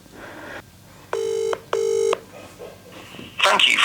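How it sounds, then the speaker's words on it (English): Phone dialing a call to a Cupra car dealer's parts department: two distinct sustained dial-tone beeps, close and clear, between brief voice bits, ending in a burst of ringing or line noise. "So we're going to give them a quick call and hopefully they'll sell me the part."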